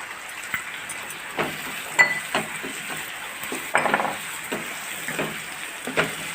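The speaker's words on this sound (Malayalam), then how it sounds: "അതിൻ്റെ പച്ച മണം മാറി വരുന്നോടം വരെ നമുക്കൊന്ന് ഇളക്കിയെടുക്കാം." Crushed ginger and garlic frying in a pan crackle with a soft steady sizzle while a utensil scrapes and taps the pan in irregular strokes, close and moderately loud.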